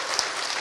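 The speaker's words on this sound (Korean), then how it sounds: "우리 한번 크게 박수 한번 해주세요" Brief burst of congregational clapping in a church service, a dense, even patter of many hands heard for under a second.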